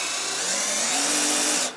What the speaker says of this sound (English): I'll just demonstrate by taking out this front screw and then reinserting it.